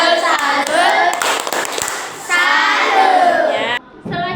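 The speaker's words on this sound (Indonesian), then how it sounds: "Beri tepuk salut untuk kelompok gotong royong." Classroom "tepuk salut" clapping routine for a student group: a class claps in rhythmic patterns alongside children's chanting voices, loud and close, ending abruptly before a short final burst.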